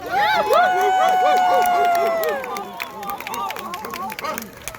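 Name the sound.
audience applause imitating barking dogs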